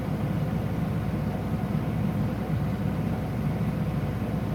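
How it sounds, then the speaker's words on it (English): A truck engine idling nearby, a steady low rumble that holds even throughout with no revving, no speech over it. "Can y'all still hear me after I fired the truck up?"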